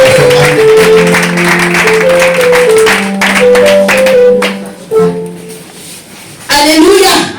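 Church congregation at a Sunday service clapping in rhythm to acclaim Jesus, steady claps over loud music and a voice, then a brief pause before sound resumes.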